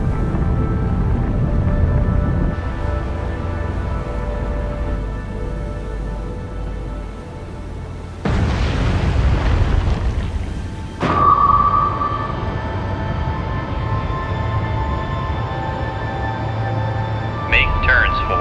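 A VLS missile launch from a cruiser in the Cold Waters naval game, a sudden loud broadband whoosh bursting in midway and lasting a few seconds over a steady low engine rumble, followed by electronic tones.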